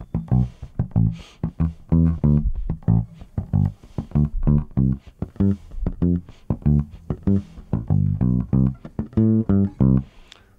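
An electric bass plays a jazz standard with a Haitian compa groove, laying down a steady, consistent two-beat feel of round, punchy low notes that pulse continuously and fairly loud, with no voices.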